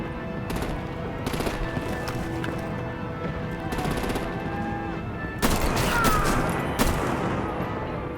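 Gunfire and artillery in the Batman: The Enemy Within video game, rapid rattling bursts of shots over a busy rumbling battle background, intensifying toward the end.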